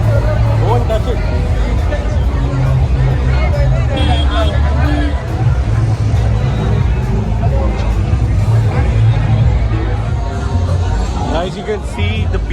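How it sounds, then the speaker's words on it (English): A packed pub at Baga beach in Goa during a Christmas holiday, filled with a loud, dense, continuous babble of many overlapping voices, with faint road traffic mixed into the background. "There's so much of crowd over here today."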